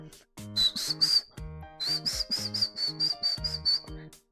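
Two airy, wavering whistle attempts, a short one then a longer one, thin and breathy, with a steady low musical backing underneath.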